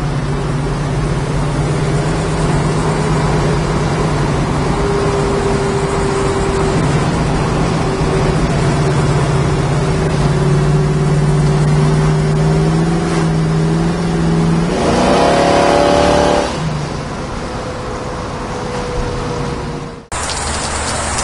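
A 1969 Chevrolet Camaro Z28 with a 383 stroker engine rumbles loudly and steadily up close, its pitch climbing into a sharp rev near the end before it settles back down.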